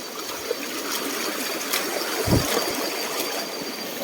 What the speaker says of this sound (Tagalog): sobrang ingay dahil nandito tayo sa ilog